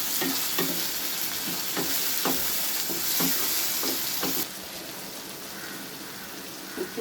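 Onions and tomatoes sautéing in a pan for a prawn roast, a steady close sizzle with repeated stirring scrapes in a loose rhythm; the frying noise drops noticeably quieter partway through.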